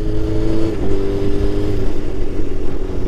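A Suzuki GSX-R 600 K3 motorcycle with a 600cc engine of about 115 horsepower runs as a loud, steady, continuous drone with no speech.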